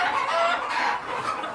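A flock of native chickens on an Arab's farm keeps up a steady, close clucking with no one talking.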